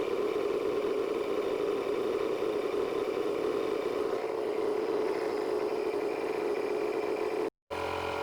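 A portable AdoreTrip 2500A air compressor pumping up a tire, a steady mid-pitched motor drone that runs loud and unbroken, cutting out for a moment near the end.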